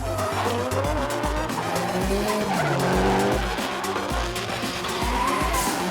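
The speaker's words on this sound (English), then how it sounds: "The drifting exhibitions are pretty wild" A drift car at an Australian drifting exhibition screeches continuously as its tires skid, layered over a revving engine that rises and falls, loud and close for the whole stretch.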